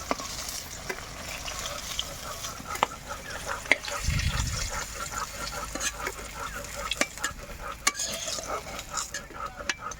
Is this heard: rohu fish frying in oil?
yes